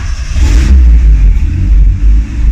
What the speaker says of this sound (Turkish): Tekrar bir marş yapalım.